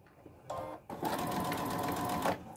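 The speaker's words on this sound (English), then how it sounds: "then we'll take it to the machine and sew it" A sewing machine stitches a mitered cotton tea towel, one short burst of whirring followed by a longer steady run, close and fairly quiet with no talking.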